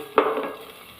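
Grated coconut dropped into melted ghee for beef curry, a sudden burst of sizzling that fades over a second, close and alone.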